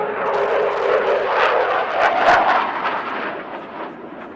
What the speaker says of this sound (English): the aircraft is coming in for a maneuver called as tail slide